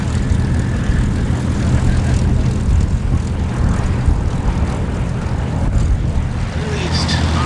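A Bristol Blenheim light bomber flies at the Duxford airshow with a loud, steady piston engine roar and propeller drone, while a commentator talks over the noise.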